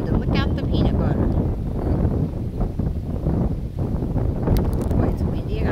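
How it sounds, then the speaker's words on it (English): Strong gusty wind roars across an outdoor microphone in a continuous loud rumble with rustling, lasting the whole stretch. "Boy, it's windy. I gotta hold my hat."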